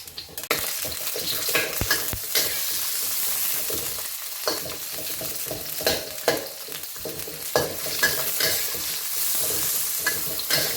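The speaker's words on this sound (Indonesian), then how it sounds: "Kita panaskan minyak wijen ya. Lalu kita tumis ini jahenya." Ginger sautés in hot sesame oil with a bright, steady sizzle throughout, while repeated scraping stir strokes sound close by.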